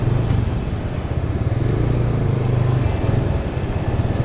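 Motorcycles ride through flood water in a submerged village in Minalin, where a Rusi KRY 150 is among them. Close engines rumble low and steady with a throbbing pulse and no talk over them.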